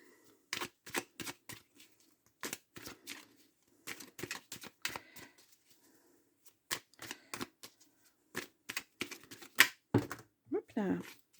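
Belline tarot cards are shuffled and cut for a nine-card draw, with quick riffling bursts and soft flicks in short clusters, close and fairly quiet, between stretches of someone speaking.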